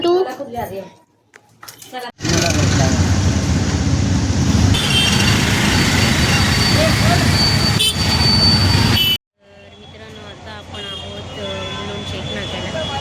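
A continuous engine roar and road rumble from inside a moving bus travelling from Mumbai to Kolhapur, loud and steady through the middle, with people talking before and after.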